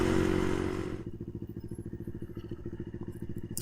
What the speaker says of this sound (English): So let's put the bike in neutral. Oh, the bike keeps running.